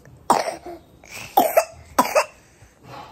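A child coughs three times in short, sharp bursts, close by, with brief pauses between and quiet background otherwise.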